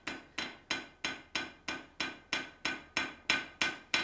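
Blacksmith hammering a forged letter opener blade on an anvil: about a dozen sharp, ringing metallic strikes in an even, quick rhythm, each with a short decaying ring, close and alone.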